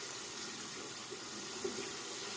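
A Personna II double edge cartridge razor is rinsed under running tap water, a steady close splashing stream with no talking.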